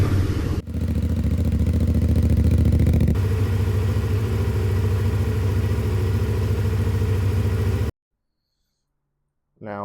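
A 2025 IBEX 450 motorcycle engine warms up in a garage, a steady loud idle rumble that runs unbroken for about eight seconds, then cuts to silence before a brief return near the end.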